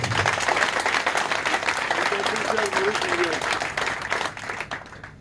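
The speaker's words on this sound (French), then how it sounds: "Je voudrais encore une fois vous demander de les applaudir pour ça." Sustained audience applause at a political gathering in Gabon, a dense wash of clapping that stays loud for several seconds and then thins out near the end, with a voice speaking over it.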